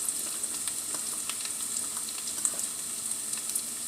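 Seasoned potatoes sizzle steadily in a hot pan, a constant bright crackle with scattered pops and no talking.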